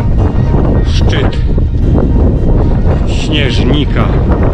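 Strong wind gusts buffet the microphone on the misty summit of Śnieżnik, 1426 m, in Poland's Sudetes, a loud, constant roar with rumbling surges and no clear pauses throughout.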